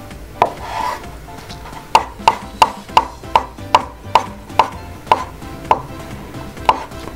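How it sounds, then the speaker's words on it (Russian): A knife chops boiled eggs on a cutting board, about a dozen crisp, evenly spaced knocks close up. "Яйца режем, ну, как любите."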